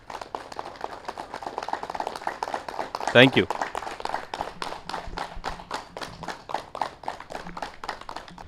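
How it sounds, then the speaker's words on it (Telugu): Steady rhythmic clapping from an audience at a Yoga Day meditation event in Khammam, continuing for several seconds at moderate volume with a brief spoken thank-you partway through. "గట్టిగా క్లాప్స్ కొడదాం"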